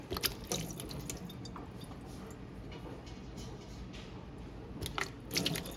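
Water draining from blanched zucchini and squash in a kitchen: soft, close splashing and dripping with scattered sharp clicks and rattles, quiet throughout, rising slightly at the end, with no one speaking.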